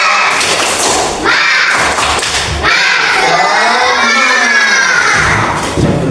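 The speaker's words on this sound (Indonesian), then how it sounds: "kita tepuk semangat dulu" A primary school class does a rhythmic spirit clap in unison at the start of a lesson, sharp patterned claps mixed with children shouting and chanting loudly, close and continuous throughout.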